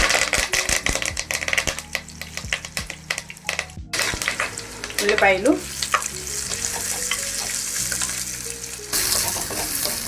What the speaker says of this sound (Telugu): ఉల్లిపాయలు బ్రౌన్ కలర్ వచ్చేంత వరకు వేయించాలి.